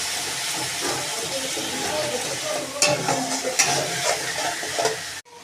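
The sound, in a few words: masala with chili powder and water frying, being stirred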